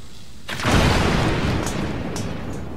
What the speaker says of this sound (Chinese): 炸弹箭炸啊好了，不要炸到自己。